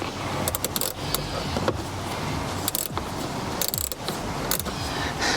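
A homemade angle screwdriver tightening a mud flap screw on a BMW G80 M3, a close run of quick ratcheting clicks and metallic rattles, with brief bursts of sharper noise.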